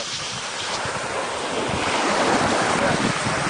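Ocean surf at a beach makes a steady, loud broadband roar, heavily mixed with wind buffeting the microphone, and no clear voices come through.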